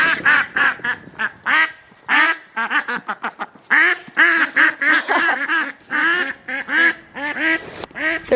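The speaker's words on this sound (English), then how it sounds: "the ducks want to come say hi too" Ducks quack by a lakeside in a dense, rapid series of loud, close calls running almost without pause.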